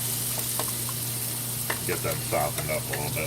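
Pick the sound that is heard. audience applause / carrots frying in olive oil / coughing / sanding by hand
carrots frying in olive oil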